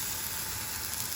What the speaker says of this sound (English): while I'm sauteing my onions